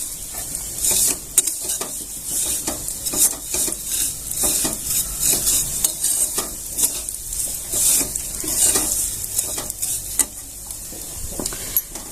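Steady sizzling of vermicelli roasting in a hot pan with repeated scraping strokes of a spatula stirring, close and continuous, no talking.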